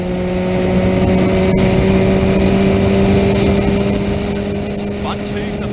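A historic Lotus 61 Formula Ford racing car at Castle Combe circuit produces a loud, steady engine drone with a sustained buzzing pitch, heard from on board, while a commentator talks over it throughout.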